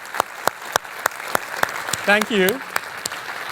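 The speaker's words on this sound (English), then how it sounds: "Can you please join me in giving our Changemakers a huge round of applause for this session?" Scattered claps from an audience at a Melbourne business event for changemakers, sparse individual hand claps spaced out over a few seconds while a voice briefly speaks in the middle.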